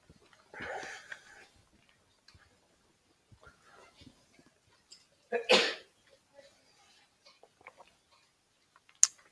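A single sharp sneeze bursts out midway through, preceded by a softer breathy intake and scattered quiet clicks and shuffles in a mostly hushed room.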